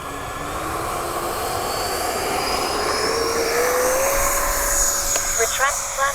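A Freewing 70mm Me 262 RC jet on its maiden flight whines overhead with a steady, rising ducted-fan roar that slowly shifts pitch as it passes, heard from some distance and continuing throughout.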